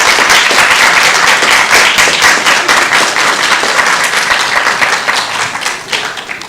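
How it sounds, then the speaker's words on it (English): Graduation ceremony audience applauding, a dense sustained crowd of hand claps, loud and close, holding steady before gradually thinning out toward the end. "So why don't you give your supporters a little round of applause as thanks for them."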